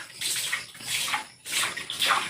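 Tap water runs steadily into a basin while suman is being prepared, a close, continuous splashing hiss that swells and dips, briefly easing near the midpoint before resuming.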